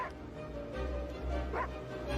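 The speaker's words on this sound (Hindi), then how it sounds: "माँ ये क्यों भौंक रहा है?" A dog in a rural Indian village setting gives short whimpering yips and barks at moderate distance, over a steady low background rumble.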